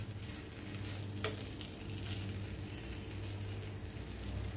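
Mixed lentil appe frying in oil in an appe pan while being turned over give a quiet, continuous sizzle with a faint clink of stirring or flipping near the start.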